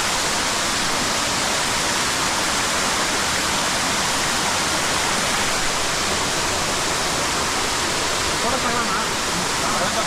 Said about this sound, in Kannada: ತುಂಬ ಚೆನ್ನಾಗಿದೆ ಫಾಲ್ಸ್ ಮಾತ್ರ, ಹಿಂಗೆ ಹರ್ಕೊಂಡು ಹೋಗೋದು